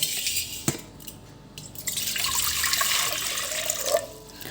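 A few clatters and a knock, then water splashes and pours steadily into a metal vessel for a couple of seconds, ending with a faint gurgle.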